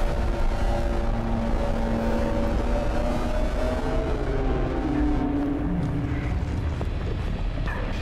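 A car engine in the survival video game Vorax rumbles with a rising and shifting whine over a noisy background, steady in level and without speech.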